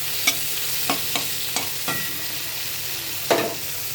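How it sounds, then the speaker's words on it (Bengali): Red and green capsicum frying in hot oil with a teaspoon of salt, for mixed fried rice, as a steady close sizzle broken by several sharp scraping stirs of the spatula. "এবার আমি রেড ক্যাপসিকাম ও সবুজ ক্যাপসিকামটা ভেজে নেব আমার একটু লবণ দেবো এক চা চামচ লবণ দেবো দিয়ে ভালো করে নাড়াচাড়া করে ভাজবো"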